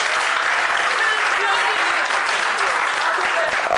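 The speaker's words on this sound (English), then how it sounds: "Ladies and gentlemen, a round of applause again for our speaker." Loud, dense applause from a crowd at a political gathering in Ghana's Volta region, a continuous wash of clapping thanking a speaker, with a murmur of voices beneath it.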